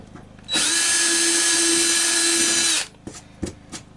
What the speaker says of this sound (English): drill a hole so we can feed those wires through there